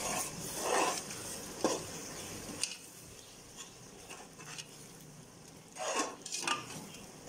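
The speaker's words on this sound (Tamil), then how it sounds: "தயிர் நல்லா இதிலே கலந்து வரணும், நல்லா வெந்து வரணும்" Yogurt is stirred into fried ginger-garlic masala in a pot for bhai veetu mutton biryani. A spoon gives intermittent scraping and clinking strokes with soft sizzling beneath, fairly quiet, and nobody speaks.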